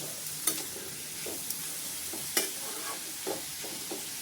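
A dry sabzi of cabbage, carrot and peas being mixed in a pan over low flame: a faint, soft sizzle with a few distinct spatula clacks and scrapes.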